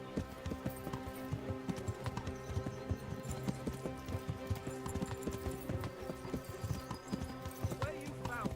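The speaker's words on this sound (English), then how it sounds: "Mount up, Henry" Horse hooves clip-clop steadily through the Kingdom Come: Deliverance video game, a rhythmic trotting beat with an occasional whinny, mixed under background music and game voices.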